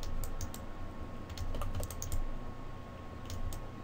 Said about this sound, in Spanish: Para, digamos, aparecer o esconder nuestro stencil, presionamos la letra Q en el teclado.